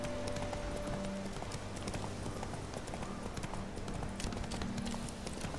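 Roach the horse trotting on a road in The Witcher 3, a steady clip-clop of hooves at moderate distance over a faint ambient bed, no talking.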